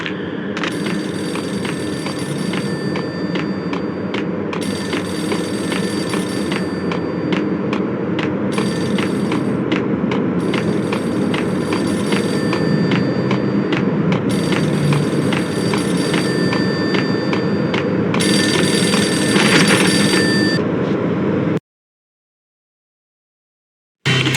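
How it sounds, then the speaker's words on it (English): A payphone in the video game Max Payne rings in repeated bursts of bright, metallic bell tones separated by short gaps, steady and fairly loud, before cutting off abruptly. "The payphone started to ring."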